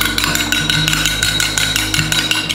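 A whisk beats eggs rapidly in a bowl in a fast, even rhythm of light clinks over a steady background hum.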